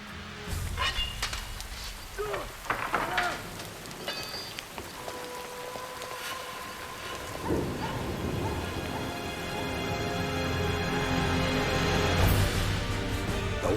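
Video game rain in Shogun 2: Fall of the Samurai pours steadily, growing heavier toward the end, with scattered drips and a deep rumble like distant thunder; a faint tone hums underneath.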